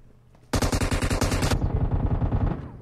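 Rapid, steady Uzi automatic fire in PUBG Mobile, a loud sustained burst of closely spaced shots lasting about two seconds, then trailing off with echoing reports.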